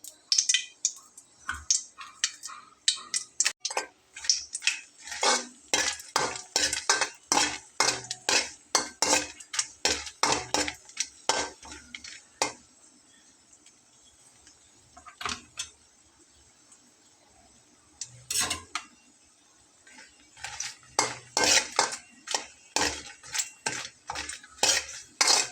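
Dried red chili stirred in about 1.5 tablespoons of oil in a pan, with a spatula clinking and scraping in quick, uneven bursts, a few quiet pauses between, close and fairly loud.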